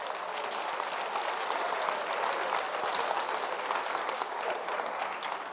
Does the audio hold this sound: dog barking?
no